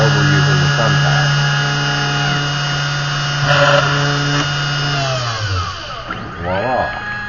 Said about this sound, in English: drilling the 2 reference holes so we can later flip the board over using the thumbtack